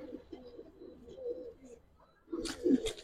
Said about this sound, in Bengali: হ্যাঁ দুটোই সিলভার কবুতর